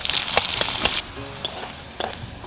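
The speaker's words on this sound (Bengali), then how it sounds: "এবার আমি কচি করে রাখা একটা পেঁয়াজ দিয়ে দিচ্ছি বড় সাইজের পেঁয়াজ নিয়েছি পেঁয়াজটা খুব সুন্দর করে ভাজা ভাজা করে নেব" A large onion frying in a pan after a cumin tempering, a loud close sizzle with stirring scrapes for the first second, then a quieter hiss broken by occasional utensil clicks, no voices.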